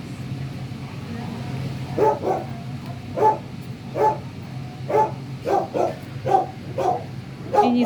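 A dog at an animal shelter in Germany barks about ten times in a loose, insistent rhythm, close and fairly loud, over a low background murmur.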